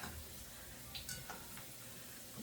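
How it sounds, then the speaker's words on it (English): Quiet sizzling of food frying in a pan, with faint crackles and a few soft clinks over a low background hiss. "It's frying really quickly, guys."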